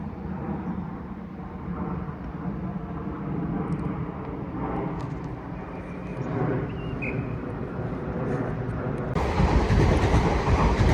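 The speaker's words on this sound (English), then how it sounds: "Southern service from Horsham to London Victoria has just turned up" A Southern train from Horsham to London Victoria pulls in at Clapham Junction with a steady low rumble and rolling rail noise that swells louder toward the end.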